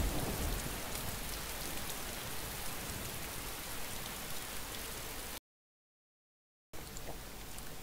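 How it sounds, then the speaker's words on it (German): Steady rain in the video game DayZ hisses and patters loudly and close, cutting out abruptly to silence before returning. "So, der Regen hat nachgelassen."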